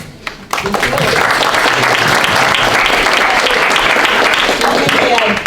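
A large audience at a political candidate forum bursts into loud, sustained applause after a brief quiet moment, clapping continuously without letup.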